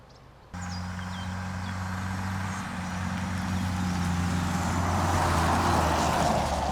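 2024 Toyota Tacoma turbo engine starting up and running, a steady close drone that slowly builds in level, heard alone.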